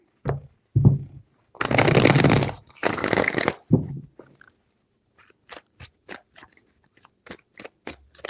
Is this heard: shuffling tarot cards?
yes